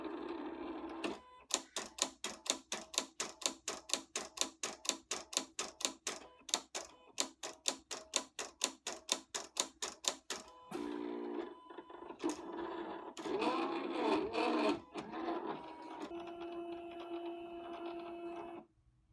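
A Silhouette Cameo 3 cutting machine cuts pink vinyl with quick, regular mechanical clicking bursts in a long sequence, then shifts to irregular whirring and motor movements before settling into a faint hum.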